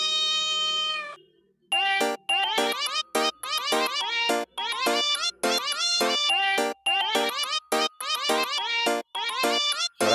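Cat meows made from vocal samples in FL Studio, starting with one long sustained meow, then a rapid choppy rhythmic run of chopped, pitched meow fragments that sounds loud and close, with no talking.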